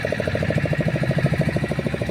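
A fishing boat's engine runs steadily at sea in rain, a close, even mechanical chugging with a fast regular pulse and no talk over it.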